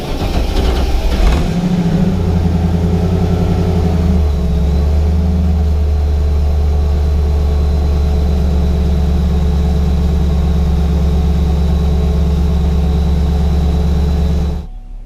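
A supercharged Ford Falcon engine cranks and fires up in a shop, briefly revs, then settles into a loud, steady, deep idle before cutting off at the end.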